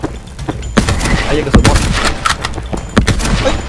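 Gunfire in the co-op horror game Fog of Life 2: a loud burst of rapid, irregular shots close up, with voices talking over the shooting.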